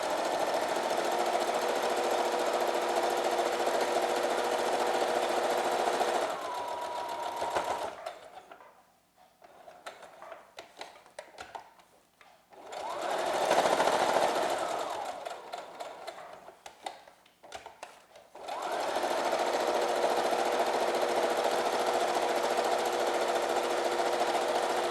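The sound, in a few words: sewing machine stitching fabric face mask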